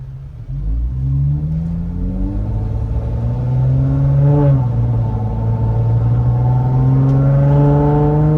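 A truck on oversized tires and wheels with 513 gears accelerates hard, its engine note climbing, dropping briefly at a gear shift, then pulling up again, loud and steady throughout with no talk.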